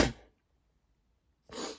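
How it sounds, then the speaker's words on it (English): A person sneezes close to the microphone, a short burst followed by a second brief puff of breath after a pause of just over a second, with quiet silence between. "I'm sorry, I sneezed."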